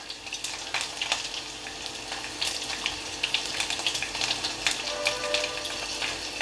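Dried red chillies and garlic frying in hot oil for a tempering, a steady close crackling sizzle with scattered sharper pops and spits throughout.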